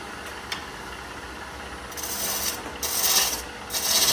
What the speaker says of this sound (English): I still have a lot of wood to remove, and I'm gonna use the spindle roughing gouge to do that